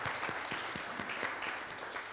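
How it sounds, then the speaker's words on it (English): An audience of teachers, parents and students at a school Hindi Divas function gives a continuous round of applause, dense and steady from start to finish with individual claps pulsing through. "So I want to say big applause from all of you for Malaji"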